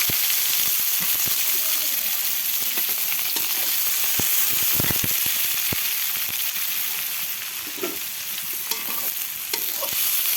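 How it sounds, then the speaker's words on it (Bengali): Chopped onions fry in hot oil with cumin, whole bay leaves and dried red chillies in a pan until reddish, a loud, close, crackling sizzle broken by repeated scraping and clinks of stirring. "লাল লাল করে আমি ভেজে নেব।"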